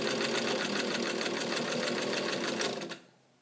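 A serviced 1942 Kenmore Rotary sewing machine, Model 117.59, runs with a steady, rapid mechanical whir and needle chatter close by, then stops abruptly near the end.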